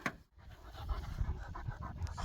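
Turkmen Alabay wolfhound panting steadily at close range, a continuous rhythmic breathy huffing with no talk over it.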